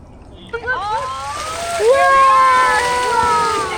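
A dolphin at a Florida marine research center splashes and churns the water, making boat-like waves. The sloshing builds and swells over a few seconds, close by, under excited voices.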